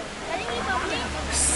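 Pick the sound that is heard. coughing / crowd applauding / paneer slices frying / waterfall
waterfall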